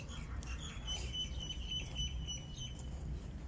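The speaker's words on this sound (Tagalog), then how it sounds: "Natuwa ako sa mga huni ng ibon." Birds chirp and call in a park in Doha, Qatar, thin high tones repeating over a steady low rumble of wind or distant traffic, with no voices.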